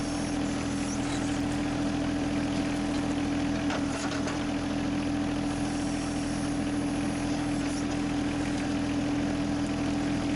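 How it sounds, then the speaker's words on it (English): John Deere 2038R compact tractor fitted with a 270B backhoe, digging out rock near an old buried brick lawn edge, its diesel engine droning steadily and loudly throughout, with faint scrapes and knocks over the hum. "As you can see, the backhoe is doing a pretty nice job of just removing that rock."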